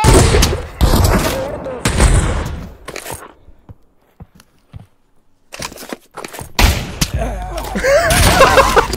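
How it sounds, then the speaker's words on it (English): Loud booming grenade blasts and chaotic gunfire in the VR shooter Pavlov VR, heavy thumps at the start and end around a quieter stretch of scattered clicks, with players' voices mixed in. "Grenade!"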